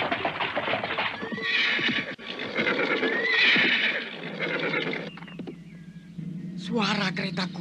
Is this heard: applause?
no